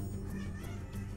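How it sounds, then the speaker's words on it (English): A pet cat named Sheriff gives a soft, faint meow, a brief, quiet call close by with no talk over it. "Let's see if she meows back."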